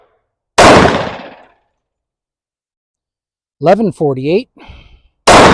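Two sharp, loud gunshots from a 3.8 inch XDM Elite pistol firing AAC 10mm range ammunition at an outdoor range, the first ringing out briefly and the second cut off at the end, with someone speaking between them.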